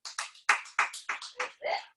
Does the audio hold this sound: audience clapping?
yes